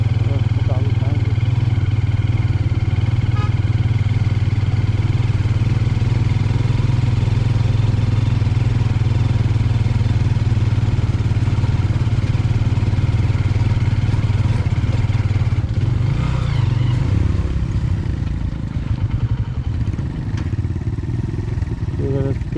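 A motorcycle engine runs steadily at idle, a loud constant low rumble and clatter continuing throughout, on a mountain forest outing near Manshi top.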